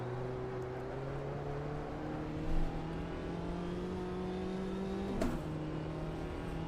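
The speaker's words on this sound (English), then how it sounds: "I'm over revving third gear." Race car engine in Automobilista 2, a sim racing game, held high in third gear and over-revving, a steady loud drone with a brief blip near the end, no talk over it.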